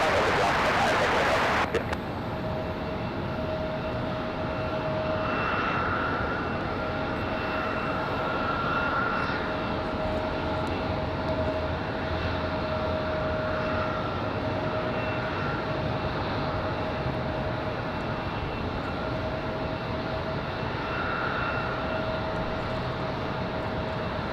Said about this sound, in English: So this A319 coming in from Philadelphia